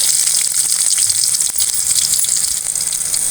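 Small shallots hit hot oil in which mustard seeds have already popped. They give a loud, dense, steady hiss of frying close by, with faint crackles over a constant sizzle and no talking.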